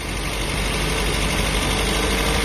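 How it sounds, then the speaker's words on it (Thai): A Toyota Corolla KE20 engine idles steadily, a dense continuous rumble with no change in pace and no voices. "เครื่องยนต์นะครับ"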